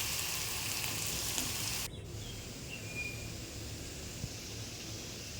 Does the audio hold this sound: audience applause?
no